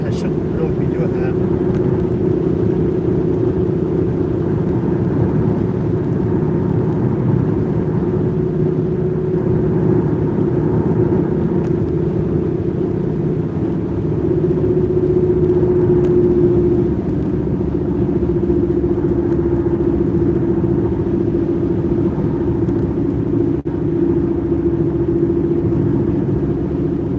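Steady, loud low rumble of a vehicle engine and road noise while driving, continuing evenly with only slight swells.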